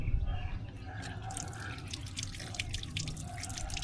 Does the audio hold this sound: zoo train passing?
no